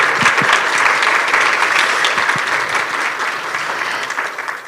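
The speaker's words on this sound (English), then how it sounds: "can we give them a round of applause" An audience at a Juneteenth community land trust roundtable gives a full round of applause, dense, steady clapping from a sizeable crowd that slowly tapers near the end.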